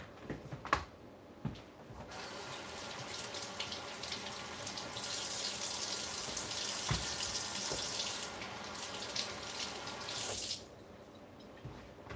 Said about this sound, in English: Let me rinse these out quick.